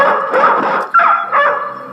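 Dogs bark and yip close by in two or three loud, tonal outbursts, with a sharp onset near the middle.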